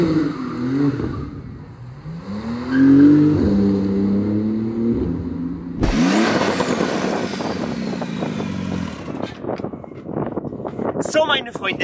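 A Porsche GT2 RS with a Stage 2 tune revs hard while drifting in Dubai, the engine rising and falling in pitch, then a loud, rough burst with tire and wind noise, and someone speaks over parts of it.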